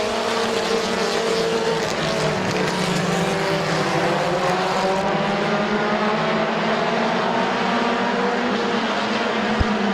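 Compact race cars racing at Midvale Speedway, a loud continuous roar of several engines with pitch rising and falling as they battle for the lead, steady and dense for the whole stretch.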